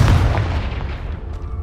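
Confringo blasting curse in Hogwarts Legacy, a single loud, close, booming blast that strikes hard at the start and decays into a rumbling tail.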